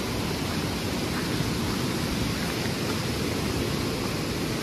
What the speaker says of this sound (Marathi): आवाज तुम्हाला ऐकू येत असेल एकदम जोरात, खूपच वेगाने नदी वाहते ती.